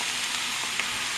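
A rice mixture with salt is stirred and simmered in a pan, giving a steady, close broadband sizzle and bubbling with a faint clink near the end and no talking.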